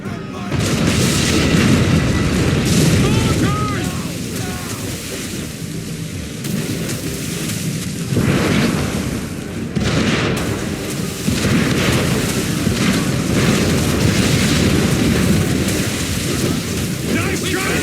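In the Assassin's Creed 3 video game, mortar fire explodes at sea as deep rumbling booms over a constant wash of rain-like noise and wind. Several heavier blasts are spread across the scene.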